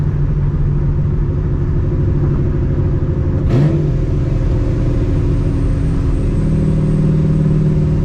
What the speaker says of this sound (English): The downshifts are crazy loud.